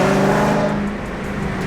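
The exhaust of a car in track mode with the mid mufflers deleted rumbles close by with a deep, throaty drone. It drops slightly in pitch and level over a short moment, with no voices.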